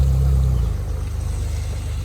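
A Ferrari 458 Speciale pulls away, its engine loud and close with a low throbbing growl that eases slightly after the first moment and carries on steadily.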